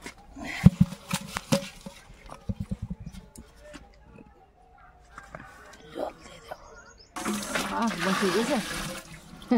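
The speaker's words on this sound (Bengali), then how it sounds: "এই মাছগুলোর মধ্যে এখন জল দেবো, দিয়ে রেখে দেবো" Water poured over freshly caught pond fish in a container, a loud splashing gush in the last couple of seconds after a stretch of quieter handling knocks and soft voices nearby.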